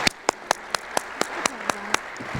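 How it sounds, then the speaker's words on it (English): Applause for event panelists comes as a string of about ten crisp, evenly spaced claps, close and steady, with no voices. "please join me in giving a big round of applause to our panelists for sharing"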